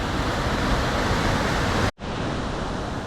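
Rushing water from Indian Flats Falls swollen by heavy rainfall makes a dense, loud, steady roar, broken by one brief cut to silence before the roar resumes.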